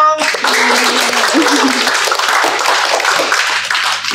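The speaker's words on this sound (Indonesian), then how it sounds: "Jadi Tepuk tangan dulu dong." Loud, dense clapping from students and teachers in a vocational school setting, continuous and close, with voices mixed in beneath it.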